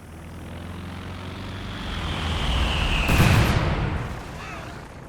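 An aircraft on a fragmentation bombing run in a video game swells from a distant drone to a loud pass overhead, peaking in a rumbling burst before fading.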